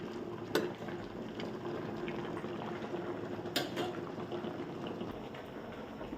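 Sweet pumpkin greens simmer in a pot of boiling water in a home kitchen. A low, steady bubbling hiss carries on softly throughout, with a couple of faint clinks near the start and in the middle.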